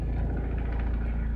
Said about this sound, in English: that's a helicopter flying over my house